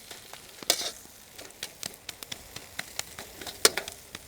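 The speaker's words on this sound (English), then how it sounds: "you want to leave it on the bottom of your wok to get a little bit brown" Food frying in a wok, left on the bottom to brown, gives a steady close sizzle with scattered crackles and a few sharp pops throughout, heard alone without talk.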